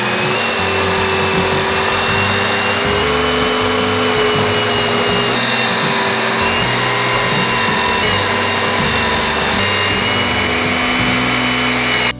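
A power sander smooths the jigsaw-cut edge of a solid wood cutting board while an attached vacuum roars. The loud, continuous whine and grinding runs unbroken close up.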